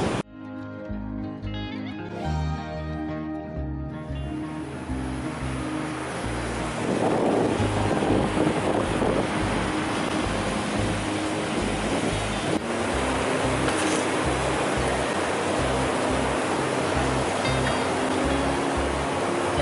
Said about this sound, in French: On arrive sur la plage et c'est marée haute